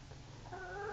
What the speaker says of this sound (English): You can see this chicken